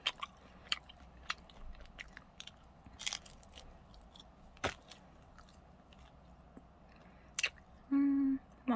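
Crunchy fried food being bitten and chewed up close, a series of sharp crisp crunches spread irregularly through quiet pauses, with a brief voice near the end.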